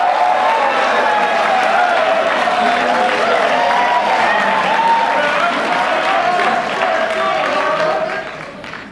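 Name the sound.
audience applause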